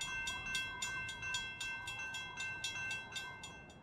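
In the VR game Rolling Line, a train rolls past with an even, repeating clack of wheels over rail joints. The clatter is loud and steady, with no talk.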